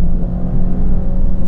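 The engine of a Fiat Abarth 595 drones loud and steady from inside the cabin as the car drives, a deep, constant rumble with a strong low hum.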